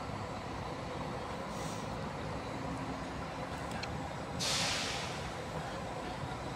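An intercity coach idles and rumbles at a bus station in Sobradinho, a steady engine drone with brief hisses, one swelling burst of air brake or exhaust noise near the end.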